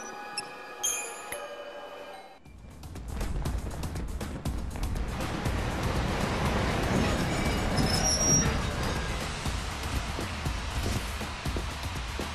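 Train running in the video game Lightning Returns: Final Fantasy XIII, starting after a brief quiet music passage, then a steady rumbling roll of wheels with occasional squeals, fairly faint and continuous.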